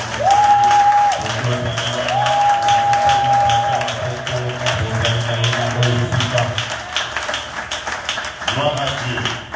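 A church congregation cheering and applauding: sustained clapping and crowd noise with voices and whooping rising through it, loud and close.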